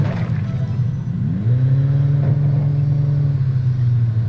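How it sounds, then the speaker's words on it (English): A vehicle engine idles in a video game, a loud, steady low hum that settles into an even drone after a brief shift in pitch. "that engine is still on"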